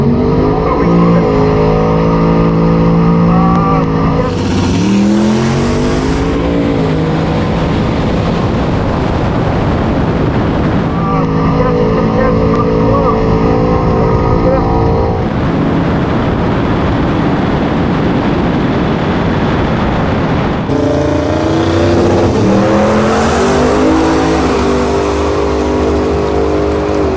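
Drag race cars launch and accelerate down a quarter-mile strip, among them a turbocharged Silverado, a gutted Tesla Plaid and a big-tire 1968 Firebird with a 468ci engine, in a long, loud, continuous engine roar that rises through several gear changes.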